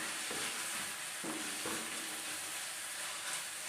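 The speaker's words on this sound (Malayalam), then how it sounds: "അതാ ഉള്ളിയൊക്കെ നല്ലോണം വഴണ്ട് വന്നിട്ടുണ്ട് കേട്ടോ" Onions sautéing in a pan for a Kerala-style beef curry give a soft, steady sizzle and hiss, with a few faint scrapes of stirring.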